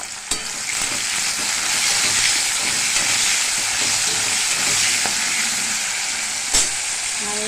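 Potatoes frying in oil, a loud, even hissing sizzle that holds steady throughout, with faint utensil clicks and one sharper knock near the end, close to the pan, no voices.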